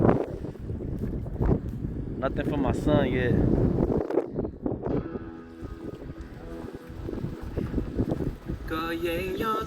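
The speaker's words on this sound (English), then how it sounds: "super motherfucking windy" Strong wind buffets the microphone on a boat while crappie fishing, a rough continuous rumble with gusts, and people talk over it.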